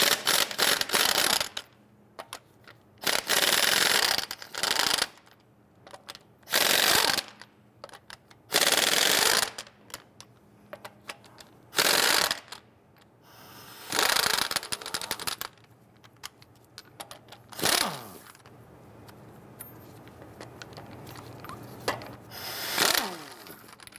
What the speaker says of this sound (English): Using a 22mm socket, loosen and remove your lug nuts